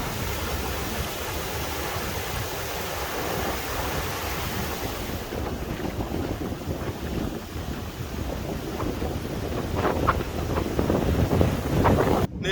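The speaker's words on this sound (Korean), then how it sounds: "지금 이제 다시 찬바람이 많이 불고 있습니다" A strong cold wind blows across ice outdoors after a winter fishing trip, as a loud continuous roar and rumble of wind buffeting the microphone, steady throughout with no talking.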